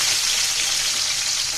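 Onion and garlic sizzle steadily in hot oil in a pan. The hiss is continuous, bright and loud, with no talk over it.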